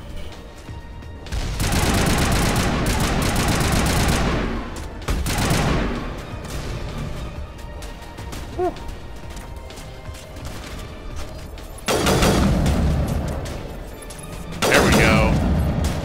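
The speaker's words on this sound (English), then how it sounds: "he's using an assault rifle" Assault rifle fire in the Mass Effect video game comes in several loud bursts, dense volleys near the start, middle and end, with a voice speaking briefly between them.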